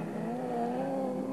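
A BMW and a green Volkswagen 1303 race on a slippery track, their engines droning loudly and steadily up close.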